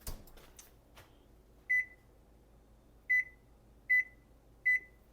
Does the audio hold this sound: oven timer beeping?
yes